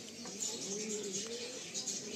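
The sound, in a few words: Kaldom pigeon cooing in a pigeon loft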